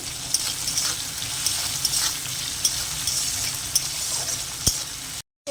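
Eggplant is sautéed with salt in a frying pan, with a constant oily sizzle punctuated by light spatula clicks and scrapes, then a brief cut to silence just before the end.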